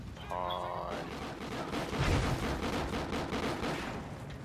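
Enemy gunfire in Call of Duty: Ghosts, heard as a dense, continuous rattle of shots with a heavier thump midway, steady and fairly loud throughout, with a brief tonal game cue near the start.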